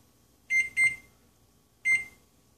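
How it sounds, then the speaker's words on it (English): A kitchen timer gives high electronic beeps as it is set for roasting poblano peppers, with two quick tones, a short pause, then one more, clear and close in a quiet kitchen. "And I'll just set the timer here for 10 minutes."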